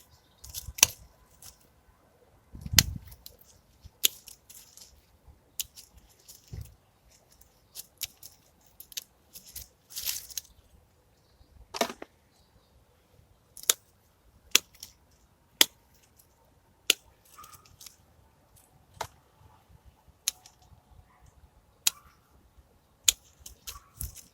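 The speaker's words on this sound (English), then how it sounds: "this is for autumn fruiting raspberry pruning. So cutting that right back, right back, right back." Secateurs snip autumn-fruiting raspberry canes in a garden plot in January, making sharp isolated clicks at an irregular pace with rustling between cuts, close and alone without speech.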